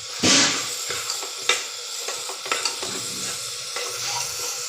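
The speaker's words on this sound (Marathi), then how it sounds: "आता हे सगळं डवळून घेतलेलं आहे" A spoon scrapes and stirs through thick food in a pan, with irregular clinks and soft sizzling between strokes, close and fairly quiet.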